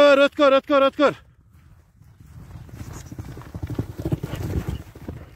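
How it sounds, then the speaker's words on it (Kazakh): A horse being led closer, its hooves clip-clopping faintly on the ground, growing louder toward the end, after a burst of loud speech at the start. "Мынакей, ат келатат."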